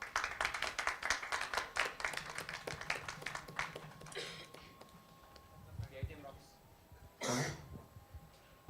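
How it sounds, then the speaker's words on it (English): An audience at the Startup Mela 2023 event in Odisha breaks into a short round of scattered clapping that thins out after a few seconds, with coughs and murmuring voices in the room. "Let's have a round of applause for them."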